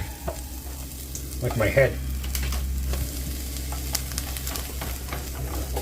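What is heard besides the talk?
onions frying in olive oil in a pan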